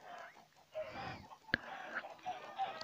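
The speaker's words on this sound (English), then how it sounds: "that is how many chickens there are" Flock of chickens in a farm video game cluck softly in scattered bursts, faint and intermittent, with a couple of sharp clicks punctuating the clucking.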